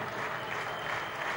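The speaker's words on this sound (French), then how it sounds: "on les applaudit" Steady applause from an audience honouring the 1992 French senior pétanque triplette champions in Grenoble, a dense continuous clapping wash with faint voices mixed in.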